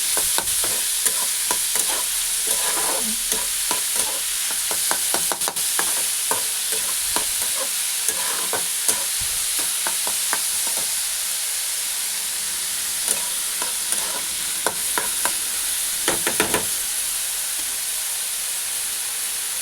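Chopped onion fries in a pan with a continuous sizzling hiss, punctuated by frequent scraping stirs; no voices are heard.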